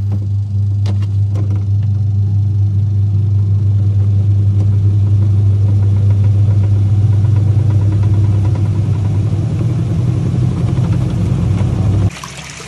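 A low, steady motor hum with a deep droning rumble from a top-load washing machine with a slow spin fault, runs continuously and then cuts down near the end.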